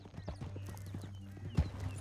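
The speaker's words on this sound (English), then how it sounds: "Good horse." A horse in Red Dead Redemption 2 clip-clops at a steady walking rhythm, the hooves close and clear over a low game hum, with a louder thump near the end.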